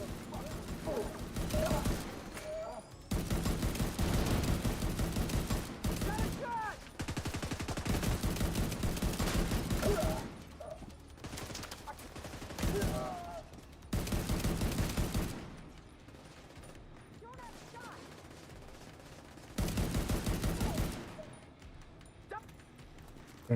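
Gunfire during a PVE fight in a video game, long loud bursts of rapid shots alternating with quieter pauses, with some dog-like barks and short speech in between.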